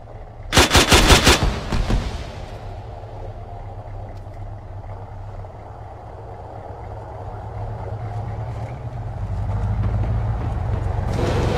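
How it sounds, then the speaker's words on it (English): A burst of rapid automatic fire rings out in the Arma 3 combat game in the urban Zargabad map, followed by a low rumbling engine-like drone that swells toward the end. "I hear a lot of fire coming from the next point up here."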